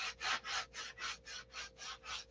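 Coarse 80 grit sandpaper is rubbed over shaped wood in nine even back-and-forth strokes with a steady rhythm. The scratching is close but fairly quiet, and there is no talk.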